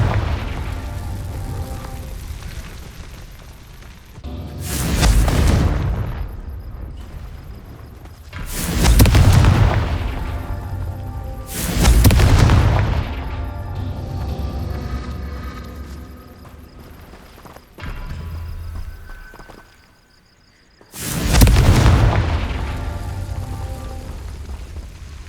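Five loud, booming blasts from Confringo fire spells in the Hogwarts Legacy video game, each a sharp burst with a rumbling tail, spaced a few seconds apart over low background hum.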